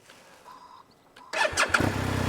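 A 2023 BMW R 1250 RT motorcycle with a large stainless steel exhaust starts up after a faint quiet lead-in, its engine catching suddenly and then running steadily and fairly loud.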